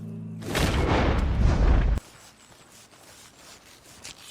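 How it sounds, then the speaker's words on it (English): A single heavy boom from a gunshot in Red Dead Redemption 2 opens into a loud, sustained roar that cuts off abruptly, leaving quieter rustling ambience behind. "He shot the thing!"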